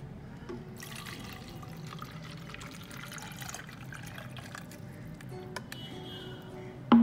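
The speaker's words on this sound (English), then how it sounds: "I'm going to take some water and put some water into this" Water runs steadily into a container for several seconds, a continuous close splashing trickle with no talking.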